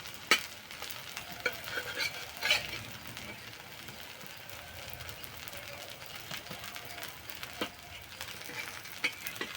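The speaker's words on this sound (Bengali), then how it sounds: "আর এক চামচ তেল দিয়ে দেবো আর এইভাবে ভাজলে বেশি তেলও লাগে না অল্প তেলেই ভাজা হয়ে যায়" Aloo jhal bora, spicy potato fritters, fry in a small amount of oil, giving a soft, steady sizzle with occasional light clinks of a utensil, fairly quiet and close.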